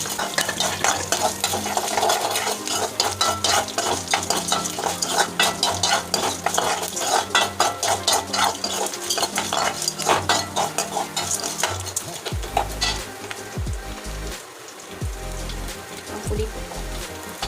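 Garlic sautés in a pan with onions for thuthuvalai thuvaiyal, a steady frying sizzle under constant spoon scraping and stirring, with a few louder clanks of the utensil near the end.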